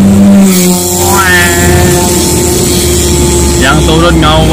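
A Honda Brio's engine holds a steady rev at about 3000 RPM in second gear while it climbs a steep mountain road, a continuous drone with people talking over it.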